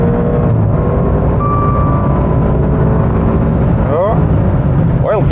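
Maserati Quattroporte GTS engine pulled at full throttle, a loud continuous roar from inside the car with revs sweeping upward near the end, while voices talk over it.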